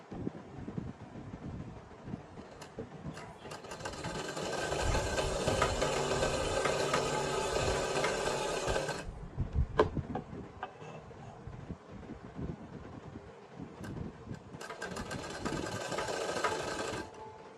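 A sewing machine stitches a salwar waistband, running in two fairly quiet bursts of steady whirring separated by a pause.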